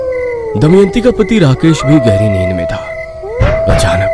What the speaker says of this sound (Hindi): कभी कभी सियार के हुआ आवाज भी आती